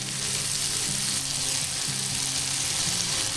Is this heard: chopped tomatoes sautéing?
yes